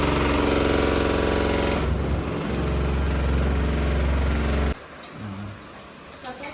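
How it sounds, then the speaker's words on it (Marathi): A ceiling fan whirs loudly with a steady mechanical drone, then cuts out abruptly, leaving a quieter room. "वर पंखा आहे तरी केवढा जोरात फिरतंय रे ते"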